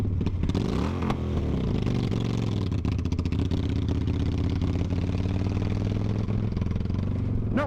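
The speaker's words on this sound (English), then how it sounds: "I'm just going to ride the red line the whole way." A military motorcycle engine in first gear revs hard at the red line, a loud continuous close buzzing drone with a brief rising surge at the start and no talking.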